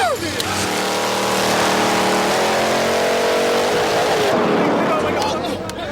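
Cadillac built for the quarter mile revving hard and accelerating, a loud roaring engine whose pitch climbs steadily and then drops as it passes, with a crowd murmuring beneath.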